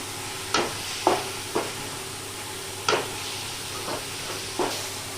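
Prawns being stirred and sautéed in a pan for prawn thokku, a continuous sizzle punctuated by six distinct scraping stir strokes spaced roughly a second apart, close and clear with no talking.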